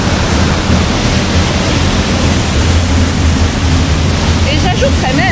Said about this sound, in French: C'est la cascade!